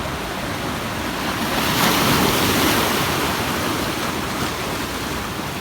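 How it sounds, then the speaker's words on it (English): Rough ocean waves crash at Abalone Cove in a loud, unbroken roar of surf. The wash swells briefly near the middle and then settles back, with no voices. "The next video shows how rough the waves are."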